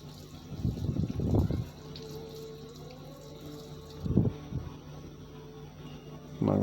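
Water splashes and runs in short bursts as someone washes their feet at a temple, with a tap-like gush near the start and brief splashes later.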